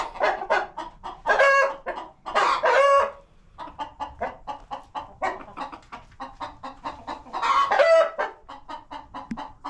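A buff Brahma rooster on a homestead clucks in a rapid, steady series of short calls broken by several long, loud crows, close by and clear, with no talking.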